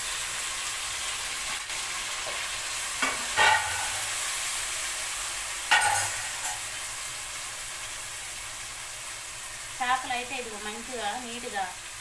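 Chopped tomatoes frying in a pan for a raw-mango fish curry, a steady soft sizzle with a few brief stirring scrapes and a faint voice near the end.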